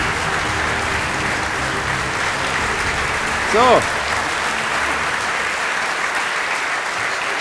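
Loud sustained applause from an audience at a live star talk event, with a brief spoken word from a host rising over the clapping midway.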